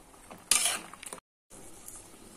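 Chunks of eggplant and potato are stirred in a cooking pan, a short loud scraping rush with faint sizzling, followed by a brief gap and low background hiss.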